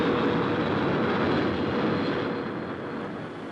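An RAF V-Force bomber flies past in the 1960s, a loud, steady roaring jet drone that fills the clip and fades slightly toward the end.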